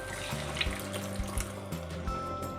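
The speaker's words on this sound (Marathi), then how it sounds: "जे पाणी होतं ते आता आपण यामध्ये घालणार आहोत" Leftover water from cooking sprouted legumes for misal runs and splashes steadily into a pan for a few seconds, a continuous liquid pour with some clinking underneath.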